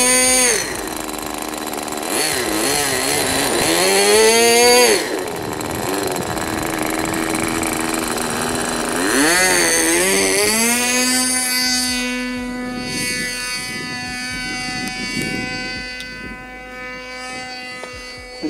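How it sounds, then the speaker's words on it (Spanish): A glow-fuel engine on an RC model airplane runs continuously with a loud, buzzing whine, its pitch rising and falling as the throttle changes and then settling into a steady higher drone, with no voices. "el motor está respondiendo bastante bien, muy predecible"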